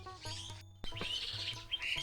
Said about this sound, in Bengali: একটু কান পাতলেই কিন্তু সেই পাখিদের যে শব্দ কিচিরমিচির সেটি শোনা যাচ্ছে